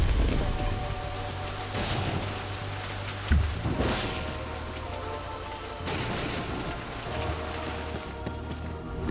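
Steady rain falls in Borderlands 3, a continuous hiss with low rumbling and a few soft thuds, heard alone at moderate loudness.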